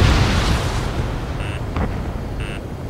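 A bomb dropped by an A-10 Warthog in Ace Combat 7 erupts in a loud, rumbling explosion that decays over a few seconds, with short electronic cockpit beeps sounding twice.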